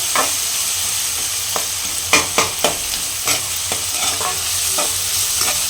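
Salted onions fry in a pan for a bitter gourd gojju, a steady sizzle broken by repeated sharp scraping strokes as they are stirred.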